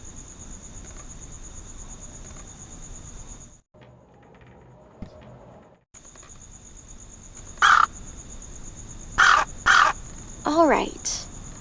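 On a rooftop in the Anna's Quest adventure game, a bird gives several loud, harsh caws in quick succession over a steady outdoor ambience of insects and a high whine, with a brief muffled gap before.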